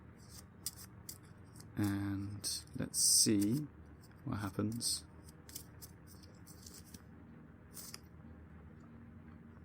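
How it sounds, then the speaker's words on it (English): An initiative card deck is shuffled during a tabletop role-playing game session, giving quick papery clicks and riffles that run through the whole stretch while a person talks. "So I'm gonna shuffle the initiative deck,"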